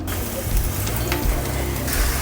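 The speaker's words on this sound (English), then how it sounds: "So next I'll be going in with my minced garlic." Minced garlic sizzles steadily in hot chili oil, a dense close frying crackle that runs without a break and with no voices over it.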